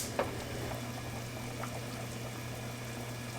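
Pasta bubbles in a pot of salted water on the stove, a faint, steady low simmer with a soft splash at the start.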